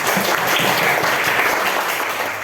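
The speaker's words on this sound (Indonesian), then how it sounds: "Tepuk tangan untuk kita semua dulu." Children in a classroom clap together in a steady, dense patter of applause that fills the room and fades slightly at the end, with faint voices underneath.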